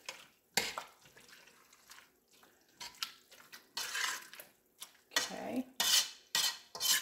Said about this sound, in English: So let me kind of mix this bouillon down in here.